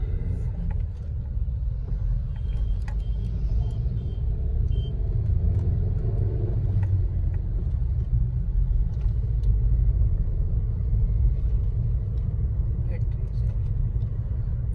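A 2023 Maruti Suzuki Brezza VXi with smart hybrid drives along, its cabin filled with a steady, low road and engine rumble that holds evenly throughout.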